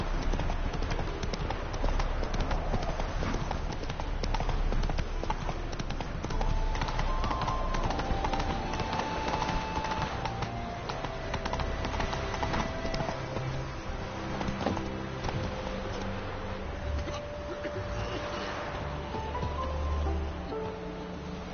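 Roach the horse galloping in The Witcher 3: rapid, steady hoofbeats under game ambience and music, continuous for the whole stretch, no talk.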